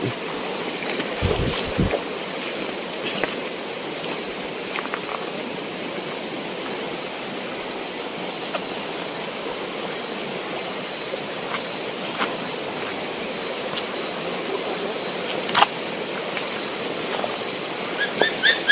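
Water flows steadily in a stream beside a big tree, a continuous broadband rushing with occasional splashes and clicks, moderately loud and without talk.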